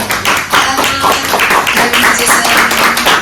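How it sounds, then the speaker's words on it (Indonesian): Audience clapping at a student public speaking presentation, dense and steady for a few seconds with a little voice underneath. "boleh tepuk tangan untuk"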